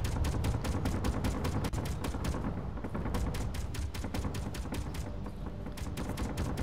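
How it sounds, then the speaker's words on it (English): Automated turrets blazing away in Space Engineers, a steady stream of rapid, evenly spaced shots over a heavy rumbling bed, loud and continuous throughout with slight dips in intensity. "I think the turrets are doing their job"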